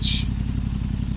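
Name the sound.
Yamaha R7 motorcycle engine with Akrapovic exhaust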